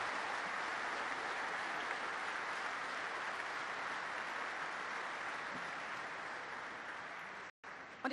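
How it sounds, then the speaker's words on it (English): Audience at a Daimler battery factory groundbreaking ceremony applauds steadily, a dense, even wash of clapping that holds for about seven seconds, then cuts off briefly before resuming. "This is your applause, Jupp Kaufer."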